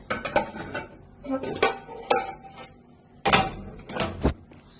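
Tuna pie is tipped out of a pan into another dish, a series of close clattering knocks and metallic taps with quiet gaps between, no speech.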